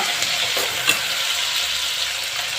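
Chopped capsicum frying in oil in a pan, a dense steady sizzle running throughout with faint stirring ticks and a brief clink.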